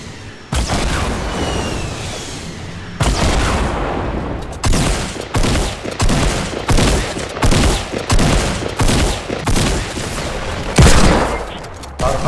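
Loud gunfire in a Fortnite squad match, with repeated bursts and volleys of shots, some booming, coming in choppy clusters over several seconds with brief gaps between them.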